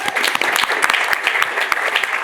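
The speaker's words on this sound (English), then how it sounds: "Clap for them." An audience at a panel event on teens, social media and gun violence breaks into brisk, dense applause, many hands clapping loudly and evenly for a couple of seconds.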